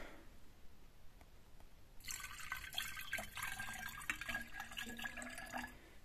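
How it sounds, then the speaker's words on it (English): Water is poured into a laboratory vessel for hydrolysis of methyl methacrylate, starting after a quiet moment as a steady splashing trickle that continues for several seconds, close and moderately loud. "so here goes a bit water"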